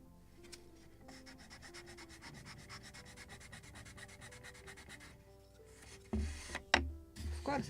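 Wood planks on a model of the 1776 gunboat Philadelphia being rubbed with a power sander, a steady faint buzzing scrape, then a few louder knocks and handling bumps near the end.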